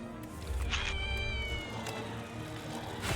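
Friendly tiny kittens meow in a high, wavering voice, a few drawn-out cries close by, fairly loud over a quiet indoor background.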